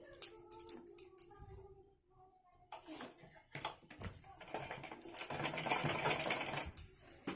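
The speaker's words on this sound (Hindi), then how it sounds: "इसीलिए यहाँ अब सिलाई कर रहे हैं हम" A sewing machine stitches a choli cut blouse and its lining in short bursts, running longer and louder toward the end, with someone talking nearby between runs.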